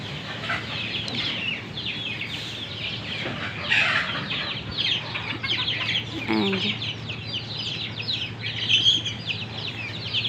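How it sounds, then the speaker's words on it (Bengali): Hens clucking around a backyard flock just after one has laid an egg, with steady layered clucks and some wing flapping against a constant low hum. "রূপবান ডিম পেরে বাহিরে চলে আসছে"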